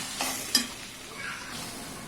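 Ground onion with ginger-garlic paste is stirred and roasted in oil in a pan for a chicken masala, with a soft steady sizzle and a couple of quick spatula scrapes up close.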